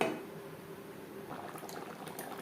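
Pointed gourd (potol) curry simmering in gravy gives a soft, steady bubbling and light liquid crackle, quiet and close, with no talking.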